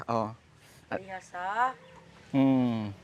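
Several young free-range pullets clucking close by in short, harmonic bursts with brief pauses between them, fairly loud against a quiet background.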